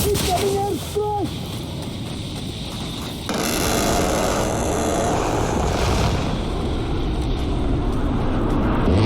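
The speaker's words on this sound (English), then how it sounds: "Incoming airstrike!" Airstrike aircraft roaring in across the battlefield in Insurgency Sandstorm, a loud, sustained engine drone that builds and swells from the midpoint, with voices shouting over the start.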